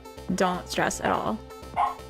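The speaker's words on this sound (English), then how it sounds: "So sorry about the dog barking." A dog barks and yips at home during a live stream, several short loud barks spread across a couple of seconds, mixed with a person talking over them.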